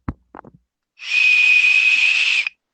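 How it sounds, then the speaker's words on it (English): A person whistles one steady, high, sustained note for about a second and a half, loud and close. A few short clicks and taps come just before it. "That's the whistle"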